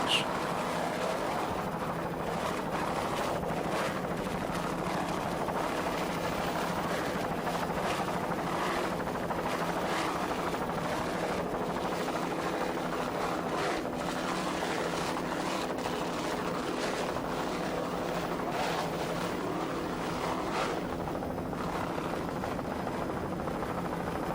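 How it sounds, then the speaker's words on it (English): Offshore racing powerboats with Stotler racing engines compete at Fort Lauderdale. Their engines make a constant, heavy drone, with wind and rotor-like throbbing mixed in throughout, and a voice talks over it at times. "Frank Kerbeck doing a fine job throttling those Stotler racing engines."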